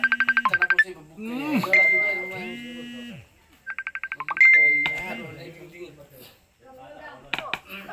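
A trilling electronic ring comes in two short bursts, with people talking between and over them, plus a few clinking clicks near the end.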